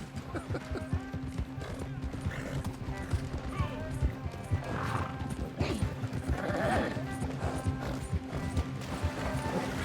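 Horse hooves clip-clop steadily in a video game ride heard from first person, a continuous rhythmic clatter over a low droning background and occasional voices talking.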